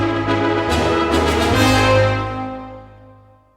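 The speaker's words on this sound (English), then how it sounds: "So I have trumpets and horns both playing this call and response figure after that note," Orchestral trumpets and horns trade a call-and-response brass figure, a sustained chord thick with overtones that swells and then fades away over a few seconds, with no talking.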